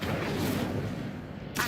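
Incendio fire spell cast in Hogwarts Legacy, a heavy whooshing burst of flame that rumbles steadily for over a second before a short crackling flare at the end.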